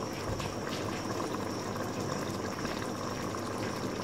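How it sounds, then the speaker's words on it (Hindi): Boiled water pours into a pot of rice for green tahari, a steady close gushing and bubbling flow that holds for four seconds. No voices cover it. "तो हमने पानी बॉईल करके रखा था, अब डाल देंगे उसमें"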